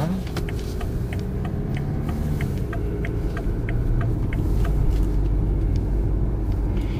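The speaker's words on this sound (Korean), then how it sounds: "출발할 때는 이제 악셀만 밟아주면 부드럽게 출발이 되는데" A 2018 BMW X3 pulls away from a stop on a city street, heard from inside the cabin as a low engine rumble that swells as it accelerates, with faint clicking ticks above and little speech.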